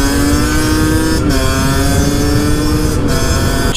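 A group of motorcycles rides together, mostly supermoto bikes and Duke models with one 50cc machine, their engines droning loudly and steadily with a sustained buzzing tone and little variation.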